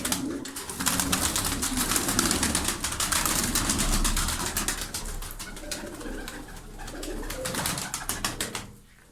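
Flock of tumbler pigeons cooing and calling continuously at moderate distance outdoors, with a dense, fluttery texture of overlapping bird sounds and occasional faint wing flaps.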